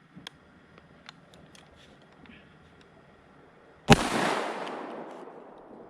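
A Winchester SXP pump shotgun fires a 3.5 inch high-brass steel BB shell outdoors, one sharp, loud blast after a few faint clicks and handling noises, trailing into a long, fading rumble and echo.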